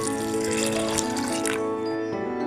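Water is poured into a pressure cooker holding cabbage and sambar powder for a cabbage kootu, a continuous splashing trickle that thins out toward the end, with steady tonal background music behind it.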